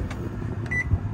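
Control buttons pressed on an 800 watt microwave inside a motorhome, giving a short electronic beep amid soft clicks and low background hum, close and brief.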